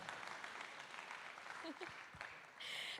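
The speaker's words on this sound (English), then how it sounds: "Let's give him another round of applause." An audience claps together in a steady wash of applause, moderately loud and sustained across the whole moment.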